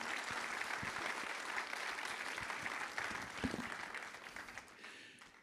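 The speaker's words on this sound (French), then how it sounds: "On peut encore les applaudir" Sustained audience applause in a conference hall during an insurance federation congress, a dense steady wash of clapping from a large crowd that holds for several seconds before tapering off at the end.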